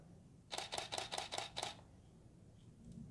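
A Canon T5i DSLR firing its shutter in continuous shooting mode: a quick burst of about six crisp, evenly spaced mechanical clicks, close and clear against a quiet background.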